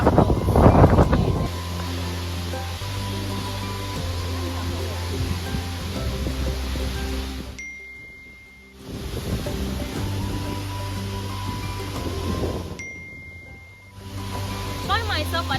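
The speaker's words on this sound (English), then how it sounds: "This is really waterfall." The Wli waterfall in Ghana's Volta region, the tallest in West Africa at about 80 meters, sends up a loud, steady roar of rushing water with wind buffeting the microphone, the roar briefly dipping twice.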